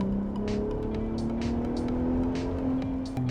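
Ford Raptor pickup accelerating in sport mode with the exhaust set to Baja mode, a steady rising engine drone heard from inside the cab as the pitch climbs smoothly.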